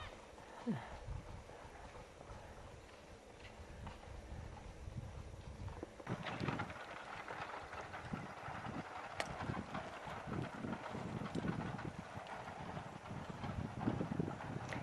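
Two 22-year-old Percheron horses pull a steel-wheeled carriage, their hooves clip-clopping in an irregular rhythm over rumbling wheel noise and wind buffeting, moderately close.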